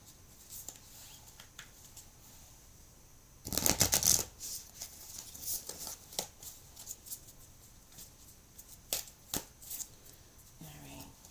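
Tarot cards being shuffled by hand, a loud riffle burst followed by softer scattered flicks and taps at close range, fairly quiet overall with no talking.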